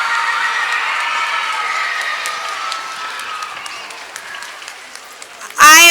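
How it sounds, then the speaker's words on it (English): Students clap for November bravery award winners at a school student-of-the-month gathering, a loud sustained wash of applause that slowly fades, ending in a sudden loud burst. "Let's hear a round of applause for our November bravery winners."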